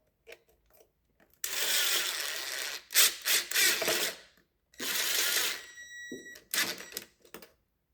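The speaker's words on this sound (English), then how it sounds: "I should be able to take this clamp now" Ratcheting and clicking mechanical bursts come in several spurts as a hose clamp is run down on LBZ Duramax intake piping, with short pauses between the runs.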